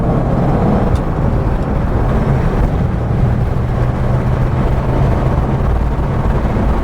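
A Rover 3500S P6 car is driving, steady broadband engine and road rumble heard from inside the cabin with wind noise, continuous and fairly loud, no speech.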